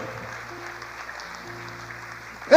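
A church congregation claps steadily in the distance, a soft continuous patter of applause under a low sustained tone, ending in a sudden loud burst.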